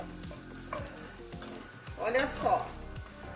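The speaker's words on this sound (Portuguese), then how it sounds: "Aí vocês vão deixar essa linguiça, ela fritar muito bem." Smoked sausage frying in a pan, a steady close sizzle with stirring scrapes and a brief louder hiss burst near the end, while a person briefly speaks over it.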